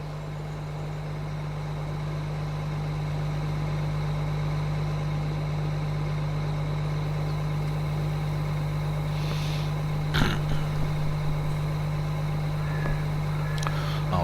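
Old tractor engine in need of maintenance, idling with a steady low throb and hum that holds constant throughout, joined by a few brief knocks and clatters near the end.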